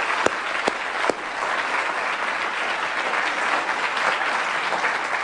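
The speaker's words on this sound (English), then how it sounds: "let's have one more round of applause for our terrific speakers" A student audience at a holiday science lecture breaks into sustained applause, a dense steady wash of clapping that stays loud and even throughout, with a few sharper claps standing out near the start.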